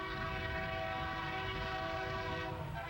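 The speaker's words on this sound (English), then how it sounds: "save for the thundering freights racing for the Texas line" Freight trains on the old Frisco line toward Texas roar steadily past with a sustained rumble and a long sounding horn, loud and close throughout with no voices.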